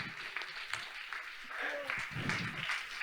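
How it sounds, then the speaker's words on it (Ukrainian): Scattered applause from an audience, steady and moderately loud, with crowd noise and a voice calling out over it. "гучніше, гучніше аплодуємо"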